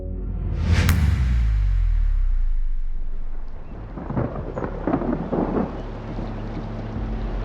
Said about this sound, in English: But a terrible storm is on the horizon.